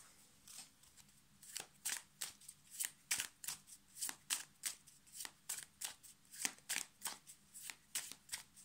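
Tarot cards are shuffled close up in quick repeated riffling bursts, each a crisp papery flutter, with the pace speeding into a steady rhythm and no talking.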